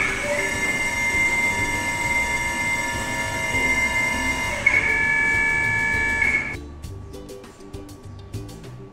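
MRI scanner patient bed being raised, a steady mechanical whine with sustained tones that shift pitch, then stops, leaving quieter beeps and room sound.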